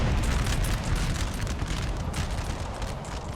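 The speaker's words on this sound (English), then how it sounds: "Okay, there's the artillery" Artillery fire in the Napoleonic-era game Napoleon: Total War, a dense continuous rumble of booming cannon blasts and distant gunfire rolling steadily throughout, loud and without clear separation between shots.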